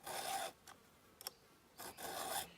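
A hand file rasps across a chainsaw chain tooth, pushed down and back flat against the bar, in two long strokes with a couple of brief light scrapes between them, close and clear with no talk.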